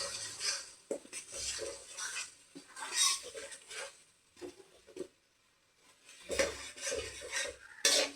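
Cashew and sesame paste for potato curry is stirred and fried in a pan, making quiet, intermittent scrapes and metallic clinks of a utensil against the pan in short bursts separated by brief pauses.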